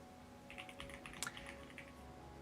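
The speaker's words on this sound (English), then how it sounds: "you can hear the sound of me clacking on the keyboard" Faint, rapid clacking of computer keyboard keys in a soft irregular flurry over a low electrical hum, distant and quiet with no talking.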